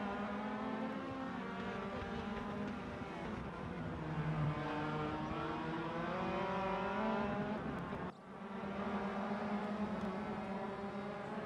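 Yellow X3 open-wheel race cars in the RaceRoom sim racing game at the Hungaroring, engines droning loud and steady with rising and falling pitch as they run close together, briefly cutting out near the end.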